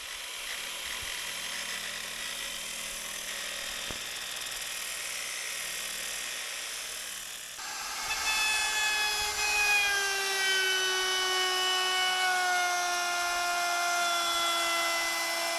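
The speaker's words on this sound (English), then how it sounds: "I'm just pre-drilling these holes before I round the edges." A power drill pre-drills holes in a wooden boat skeg, a steady loud whine that shifts to a higher, tonal pitch partway through as the bit bites, with no talk over it.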